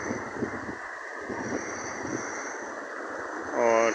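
Clear spring water flowing down from mountain springs in Miandam, Swat, a steady broadband rushing close to the microphone with wind buffeting, and a voice speaking over it near the end.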